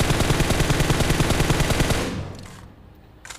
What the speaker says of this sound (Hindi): तो इतने में मेरे को साउंड आता फायर का।